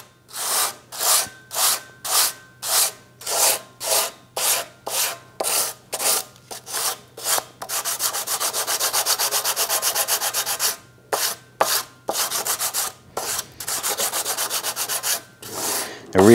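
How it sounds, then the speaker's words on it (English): Hand sanding of a cylinder head gasket flange on a 3.6L V6 Grand Cherokee with 400 grit sandpaper wrapped on a wood block: about a dozen rhythmic rasping strokes, then a longer continuous scrub, then more strokes, close and loud with no talking. "I'm just going to use some 400 grit sandpaper on a block of wood."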